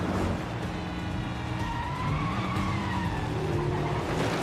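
Ambulance in the 007 First Light video game, a wailing siren over roaring engines and tire skids in a busy chase, loud and continuous throughout.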